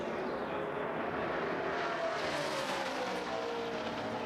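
NASCAR stock cars racing in pack at the 2011 Aaron's 312, a loud continuous engine roar with a rising whine sweeping through, steady and close throughout.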